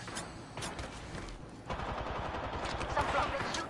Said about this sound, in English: Some rockets shooting at me.